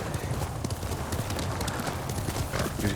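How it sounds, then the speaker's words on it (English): A horse gallops in the video game Ghost of Tsushima, rapid rhythmic hoofbeats running continuously and fairly loud, with faint background sound beneath. "Yuriko's horse. She can't be far."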